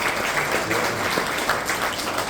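Brief, dense clapping from a small audience for a jazz trio's bass player and guitarist after a song, steady and fairly close throughout.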